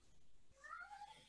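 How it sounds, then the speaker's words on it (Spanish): A female cat meows in a rising, drawn-out cry over a faint room background. "Enloqueció la gata."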